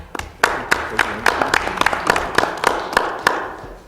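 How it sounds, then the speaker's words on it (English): Sparse applause at a school board meeting from a small group, with distinct individual claps and an irregular rhythm of sharp hand strikes close by. "That is the only item of information ever that received applause."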